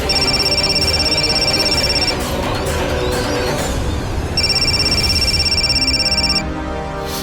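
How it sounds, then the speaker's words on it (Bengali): A telephone rings loudly in a home during a Bengali crime drama, with repeated electronic ring bursts, a pause, then another long burst before it stops. "ফোনটা তুমি প্লিজ একবার তোলো।"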